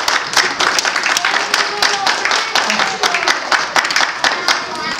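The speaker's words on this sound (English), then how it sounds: "So the first thing you do is give yourselves a round of applause," An audience claps in sustained applause, a dense stream of individual claps close by with a few scattered cheers and voices mixed in.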